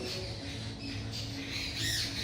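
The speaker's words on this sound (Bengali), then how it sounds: "এই যে পাখিগুলো ডাকছে এখানেই সব থাকে" Birds nesting in a ceiling squawk repeatedly indoors, harsh calls overlapping against a steady background hum, fairly faint and enclosed-sounding.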